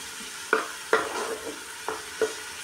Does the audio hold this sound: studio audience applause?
no